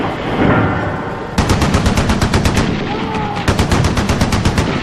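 Heavy gunfire from Turkish guns during the Anzac landing at Gallipoli, with loud rapid machine-gun bursts in a dense, rattling rhythm that jumps louder partway through and continues steadily under a low roar.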